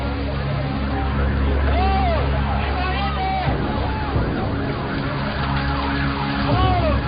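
A wailing tornado warning siren rises and falls repeatedly across the whole stretch, over a steady low rumble with voices and commotion nearby.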